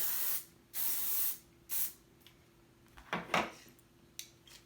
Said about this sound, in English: Get that last bit of spray.